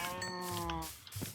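Cow mooing in the Minecraft video game, one short drawn-out tonal moo up close, followed by brief quieter game sounds.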